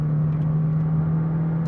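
McLaren 600LT supercar driving, a steady loud engine drone with a strong low tone and road rumble, close and continuous, no voices.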